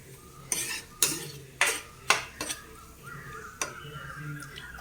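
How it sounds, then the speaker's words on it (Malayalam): Masala and salt are stirred in a pan while onions cook for a fish dish, giving five or six sharp, close scrapes and clinks of a spoon on metal over a faint background sizzle. "ഈ മസാലയ്ക്ക് ആവശ്യത്തിന് ഉപ്പും കൂടെ ചേർത്ത് കൊടുത്തിട്ട് ഒന്ന് കിണ്ടി"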